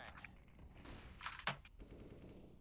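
Gunfire in a Counter-Strike-style shooter game with AK rifles, a quick burst of several sharp close shots with cracks and echoes over about two seconds.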